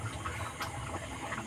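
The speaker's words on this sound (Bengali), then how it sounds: "এদিকে আমার কড়াইতে মাংসর ঝোল ফুটছে" Meat curry in a wok bubbles at a steady simmer, a continuous hissing, fizzing bed of sound with small pops, fairly close and constant.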